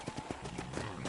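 Horse hooves clip-clop in the video game Red Dead Redemption, a quick, quiet run of several hoofbeats at a walk or trot on a ranch.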